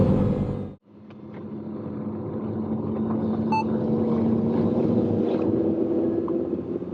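Audi R8 V10 Plus Spyder with its 5.2 litre V10 and the roof down: after a brief cutout, a steady deep engine rumble swells and holds, blended with wind buffeting, with no talk.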